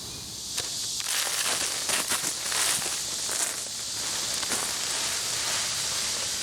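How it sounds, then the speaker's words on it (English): Rain falls on a garden as a steady hiss with scattered soft taps and patters, fairly close and continuous, with no voices. "Humidity rises and it starts to rain again."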